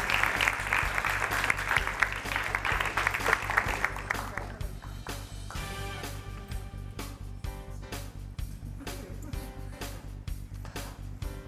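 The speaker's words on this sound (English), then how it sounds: "so let's give them a big round of applause." Audience applause for a middle school team at a Battle of the Books competition, steady dense clapping that thins out after a few seconds into scattered claps, with a low hum underneath.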